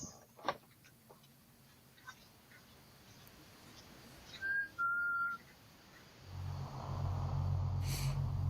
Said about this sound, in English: The sound of someone whistling is heard clear as day on camera.